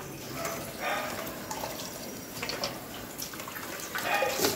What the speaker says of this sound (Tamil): சீக்கிரமாக தண்ணி எல்லாமே வடிஞ்சு போயிடும்.